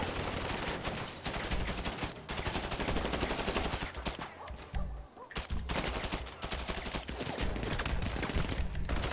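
Rapid gunfire from a GTA Online shootout during the Lowriders and Halloween update, loud, dense automatic bursts filling the scene with brief gaps around the middle, close and continuous.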